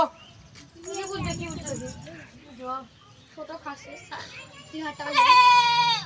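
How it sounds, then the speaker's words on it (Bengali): A goat being shown and priced bleats several times among lively chatter from adults and children, with the loudest call near the end. "ছাগলটা ভালো গো লক্ষ্মী ছাগল"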